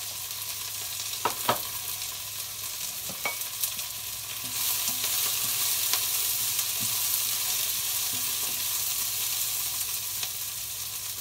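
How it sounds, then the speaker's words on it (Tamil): Onions sautéing in hot oil as tempering for a dried fish curry with raw mango: a continuous sizzle that grows fuller midway, broken by sharp clicks and scrapes of stirring against the pan. "இப்போ வெங்காயம் ஓரளவு வதங்கினா போதும்."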